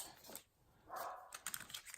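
A dog barks a few times at moderate distance indoors, short sharp yaps with brief gaps, over faint rustling of crafting paper.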